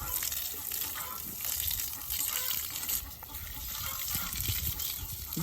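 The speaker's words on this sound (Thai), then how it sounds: "ตอนนี้เราก็ อาบน้ำให้น้องคำคูณนะครับ" Water gushes and splashes steadily as a bull elephant is bathed outdoors, a close, continuous wash of spray and trickling.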